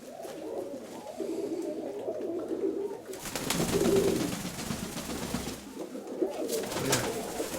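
Several pigeons coo continuously in low, rolling calls close by, the cooing swelling and overlapping through the whole stretch.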